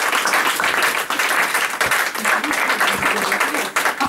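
Congregation applauding the Lord during an energetic French-language church service, with steady sustained clapping filling the room throughout and some voices mixed in.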